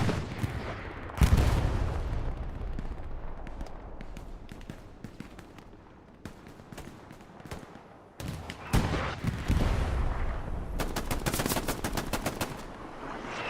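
Bursts of STG rifle fire and other gunshots in the Hell Let Loose battle at Kharkov St. Mary's crack in rapid clusters, some sharp and near, others in dense volleys near the end.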